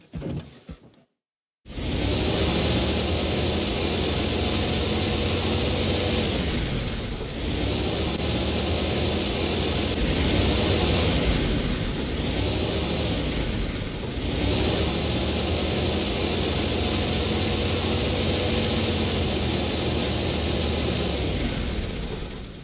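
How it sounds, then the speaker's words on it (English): Tractor engine running steadily and loudly in the Highly Likely video game on PC, a continuous droning rumble after a brief quiet start, with slight dips in level as it drives. "I'll get the tractor out of here first, Mikola decided"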